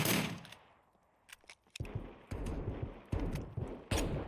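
Gunfire between players in the survival video game SCUM, several sharp bursts of automatic and single shots popping in rapid clusters after a quieter opening, fairly close and loud.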